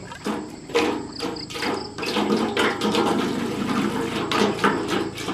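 Water from a spring gushes and splashes unevenly nearby, surging and easing in irregular spurts, with a faint high insect-like buzz running underneath.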